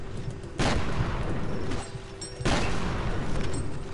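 Shotgun blasts in the video game F.E.A.R., two loud booming shots about two seconds apart, each with a sustained rumbling tail.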